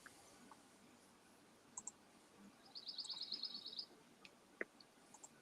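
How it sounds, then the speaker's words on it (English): Outdoors in the woods, scattered bird chirps and a rapid trilling song ring out faintly, with sparse clicks and ticks around them in a quiet setting. "I hear those birds."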